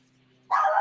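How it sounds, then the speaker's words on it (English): Dogs bark suddenly and loudly in a quick burst, starting abruptly after a stretch of near-quiet with a low steady hum in the background. "those are my dogs."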